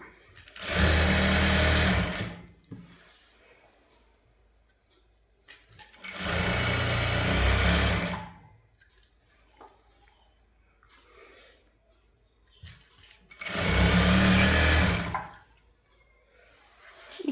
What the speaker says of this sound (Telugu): మనము ఈజీగా ఒక టెన్ మినిట్స్లోనే ఫాల్ అయితే స్టిచ్ చేసుకోవచ్చండి ఇలా